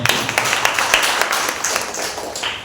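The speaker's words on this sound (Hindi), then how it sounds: "आइए परमेश्वर की जय एक जोरदार ताली बजाते हैं।" A church congregation at a Sunday service breaking into brisk applause, many hands clapping close and loud in a dense burst that gradually thins out.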